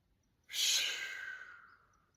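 One slow, breathy exhale during a qigong breathing exercise, close and clear, starting abruptly and trailing off gradually over about a second and a half in a quiet room.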